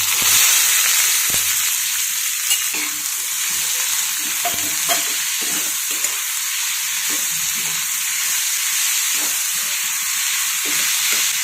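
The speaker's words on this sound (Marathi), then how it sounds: "कांदा, टोमॅटो आणि हिरवी मिरची चिरलेली आपण परतून घेऊयात।" Chopped onion, tomato and green chili sauté in a pan over tempered mustard seeds and cumin, giving a loud continuous sizzle broken by repeated scraping stirs, with no talk.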